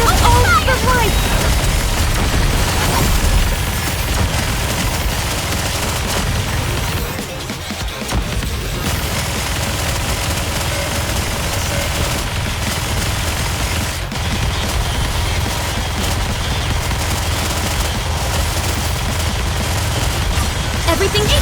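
An Aegis cannon in a video game fires repeatedly, producing a dense, loud, continuous barrage of booming shots that barely lets up, with a brief dip midway.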